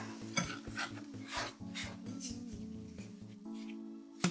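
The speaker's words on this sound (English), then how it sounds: "I'm going to first use a spoon to combine the wet and the dry ingredients." A spoon stirring wet and dry bagel dough ingredients together in a bowl, with soft scraping strokes and a few light clinks, quiet and close, while steady background music plays.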